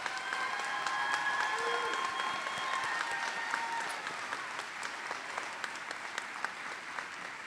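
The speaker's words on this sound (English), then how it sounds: "give you a round of applause" A crowd at a college of nursing convocation applauds the graduates with dense, sustained clapping that stays steady before thinning slightly toward the end, heard within a large hall.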